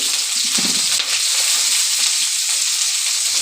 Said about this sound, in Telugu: కరివేపాకు బాగా బ్రౌన్ కలర్లో వేగాలి ఫ్రెండ్స్, అప్పుడే టేస్ట్ వస్తుంది.